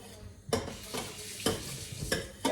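Meatballs frying in a pot, with a soft sizzle under several sharp metal clanks and scrapes of a utensil against the pot at irregular intervals, close and fairly loud.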